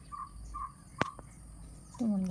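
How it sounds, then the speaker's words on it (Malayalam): Birds call outdoors in the morning: a few short, faint chirps over quiet background hum, then a single sharp knock and a brief tonal, voice-like sound near the end. "കിളിയുടെ കൊഞ്ചിലൊക്കെ കേൾക്കാൻ നല്ല രസമാണല്ലേ"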